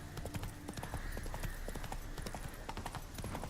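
Roach the horse gallops in Witcher 3, hooves clip-clopping in a steady rapid rhythm at close range with a brief whinny, under game ambience.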